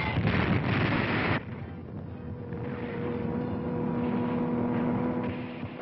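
A Nazi Stuka dive bomber drops a bomb near the front lines of a 1943 North Africa battle: a loud, rough blast fills the first second and a half, then gives way to a lower rumbling roar with a steady droning tone.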